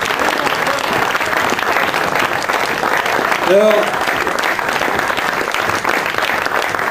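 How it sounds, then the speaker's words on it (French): Audience applause for a folk dance group: a steady, dense wash of clapping from a large crowd that continues throughout, with a voice speaking briefly over it. "je voudrais très sincèrement qu'on les applaudisse une autre fois."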